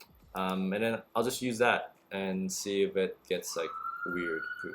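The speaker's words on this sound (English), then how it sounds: "Sorry about the sirens. I live near a hospital and I always get sirens." Emergency vehicle sirens outside near a hospital rise as a faint steady wail under close talking, coming in partway through and holding to the end.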